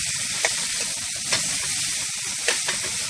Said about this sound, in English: So giving them a little stir.